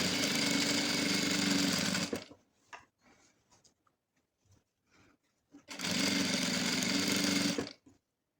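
A sewing machine stitches a chair cover in two loud, close bursts of fast, even whirring. A quiet gap between them holds soft scattered handling clicks and rustles.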